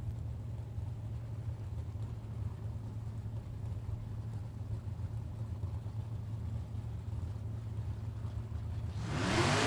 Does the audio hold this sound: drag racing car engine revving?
yes